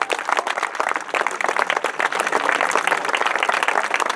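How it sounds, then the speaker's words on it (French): Audience applause at the Centifolia rose festival in Plascassier, Grasse, a dense, steady burst of many hands clapping that holds loud and continuous throughout with no speech. "Et vous pouvez l'applaudir."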